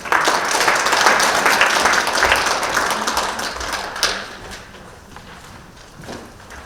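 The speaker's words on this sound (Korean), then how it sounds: "박수로 환영하겠습니다" A church audience at a lecture on senior education welcomes the speaker with a full round of applause, strong at first and then thinning out and fading over the last few seconds.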